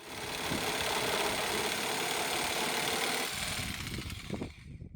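A Ronix 4111 electric jigsaw set to maximum speed and full orbital action makes an angled cut: a loud, steady motor whine with rapid blade chatter that runs without a break for about three seconds, then eases and stutters as the cut winds down.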